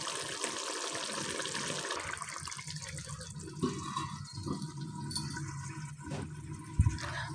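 Pabda fish curry with poppy seed and mustard simmering under a lid in a pan, a steady soft bubbling hiss with faint drips, close and continuous, ending in a brief knock.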